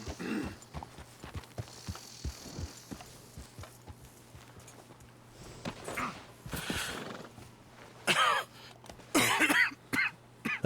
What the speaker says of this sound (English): That cough's getting worse.